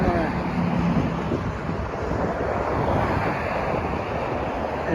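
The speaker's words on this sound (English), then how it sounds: "It's a little bit windy in Florida" Steady wind buffets the microphone outdoors in Florida, a constant broadband rush with no pauses, and faint voices mixed underneath.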